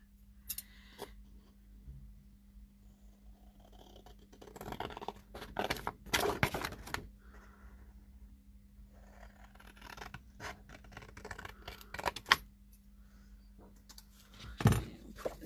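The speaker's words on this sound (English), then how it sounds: "So I'm just going to use scissors" Quiet snips and scraping of scissors cutting through craft material for a mixed media layout, a few louder crisp cuts scattered among soft rustling, with a low steady hum underneath.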